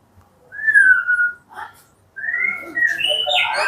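A white-rumped shama of the giras type sings clear, loud whistled phrases close by, a rising whistle followed by a pause and then a longer burst of varied, higher notes.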